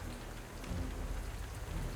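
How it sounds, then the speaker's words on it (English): Heavy rain lashes a porch and the roof of a car parked by a garage, with water running into the gutters; a dense, steady downpour with a low rumble underneath, close and continuous throughout. "The rain relentlessly lashes against the porch and the roof of the car that's parked by the garage, gathering in murky torrents in the gutters."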